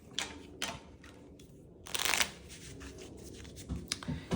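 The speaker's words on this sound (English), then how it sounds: "So we're going to do one more little shuffle here" Tacta Solitaire cards shuffled by hand at close range, crisp papery riffles and shuffles coming in several bursts with brief pauses between them, no voices.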